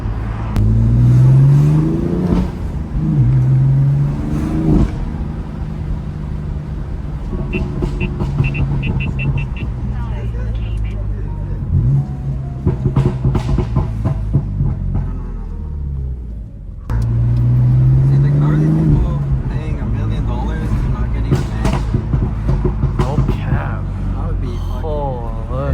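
A stock-exhaust BMW F80 M3 on the move, its engine droning and revving with bursts of crackling exhaust pops, heard from inside the car with voices in the cabin.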